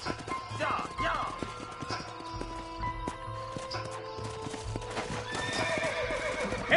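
Horses clip-clopping and neighing in the video game Red Dead Redemption, several whinnies over steady hoofbeats, close, with a voice briefly speaking over them.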